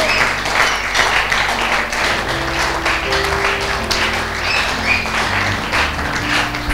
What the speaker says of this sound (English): Let's clap for the Holy Ghost tonight.